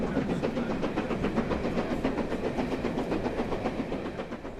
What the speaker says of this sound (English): the train started its return journey to London